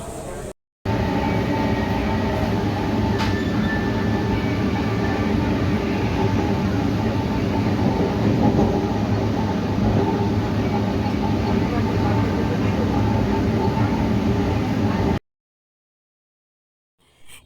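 An almost empty last passenger train rumbles and rattles along, heard from inside the carriage as a loud, steady, continuous roar that cuts off into silence near the end.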